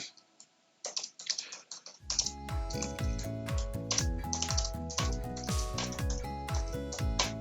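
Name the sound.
typing comments on a computer keyboard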